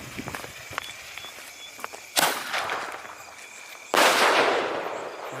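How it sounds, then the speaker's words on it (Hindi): Penta sky shot firework launched at night during Diwali cracker testing: two sharp, loud bursts about two seconds apart, each trailing off in a crackling hiss, after faint scattered ticks and pops. "पेंटा स्काई शॉट नाइट के अंदर बहुत ही शानदार डिस्प्ले बनाया है और बहुत ही शानदार चला"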